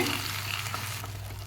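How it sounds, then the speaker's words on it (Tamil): Ridge gourd paste for chutney is stirred into hot oil in a frying pan, giving a continuous close sizzle with soft scraping from the stirring and no talk. "பீக்கங்காய் பேஸ்ட்டை சேர்த்துக்குவோம் மிக்ஸ் பண்ணிக்க"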